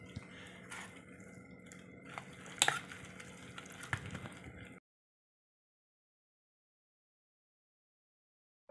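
Egg mixture for an omelette being mixed with a spoon in a bowl, a few light scraping clinks and stirring taps up close for several seconds before cutting to silence.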